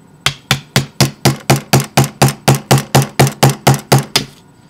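A hammer strikes the top of a screwdriver to break a Lush bath bomb: about fourteen loud, evenly spaced hard blows in a steady rhythm, close and alone.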